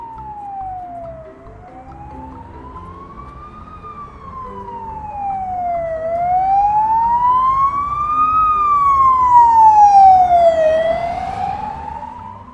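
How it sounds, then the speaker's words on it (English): An ambulance siren wails loudly in a slow up-and-down sweep, rising and falling repeatedly for several cycles and growing a bit louder toward the end, with no voices over it. "What does an ambulance sound like? I'll put in a little sound clip right here for you."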